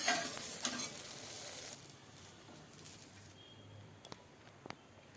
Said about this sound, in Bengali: সয়াবিনটি দিয়েই জিরা, হলুদ, মরিচ আর লবণ দিয়ে বেশ কয়েকবার নেড়ে চেড়ে সয়াবিনটাকে আমি ভেজে নিব।